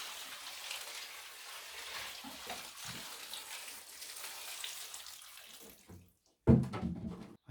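Water is poured into plant pots holding ceramic stone, a soft steady trickling splash that fades and pauses, then a louder burst of pouring near the end.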